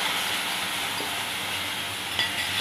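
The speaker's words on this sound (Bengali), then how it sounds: "মশলার পেস্টটা দিয়ে দিব" Spice paste hitting lightly fried onions in a hot pan for puti fish dopeyaza, giving a steady close sizzle with faint stirring scrapes and one brief sharper crackle near the end.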